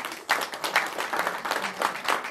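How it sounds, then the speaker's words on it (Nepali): An audience at a Nepali Christian book launch event claps for the speaker's wife, a dense, steady patter of many hands with a few louder bursts, continuing throughout. "मेरो श्रीमतीलाई ताली बजाइदिनुहोस् न"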